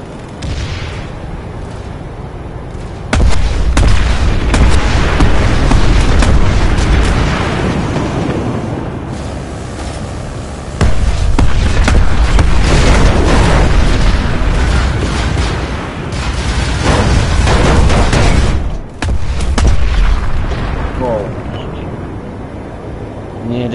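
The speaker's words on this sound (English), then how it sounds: "you see a little missile coming up" Missile explosions in a PS2 video game played on a PS4 boom in loud, dense bursts, with sustained rumbling blasts under continuous game noise and a voice talking over the action.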